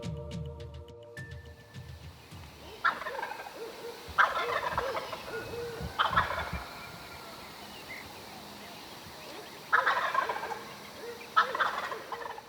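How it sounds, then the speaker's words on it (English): Wild turkeys gobble from roost trees in Florida pines at dawn, a handful of separate, fairly distant rattling gobbles spaced a few seconds apart over a quiet morning background. "turkeys talking in the pines"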